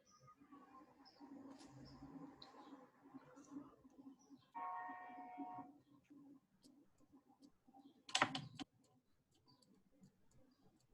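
Soft, irregular keystrokes on a computer keyboard during an online probability lesson, faint clicks over low background noise with a brief louder clatter, and a voice murmuring now and then.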